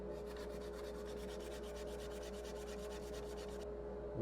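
Sandpaper rubbing across the bottom of a Koa wood bowl, a steady rhythmic scratching of repeated even strokes at close range, continuing without pause and stopping near the end.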